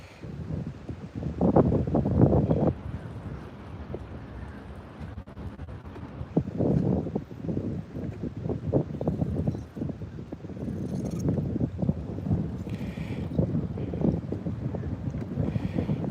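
Wind buffets a kayak on open water, heavy rumbling gusts and microphone roar rising and falling in waves, with faint splashing and rattling beneath.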